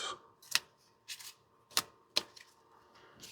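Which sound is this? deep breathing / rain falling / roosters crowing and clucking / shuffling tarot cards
shuffling tarot cards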